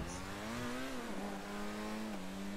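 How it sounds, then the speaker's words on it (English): Progen sports car engine in GTA 5, a steady droning tone that rises and then settles into a sustained cruise, fairly faint and heard alone. "Oh, that Progen sound."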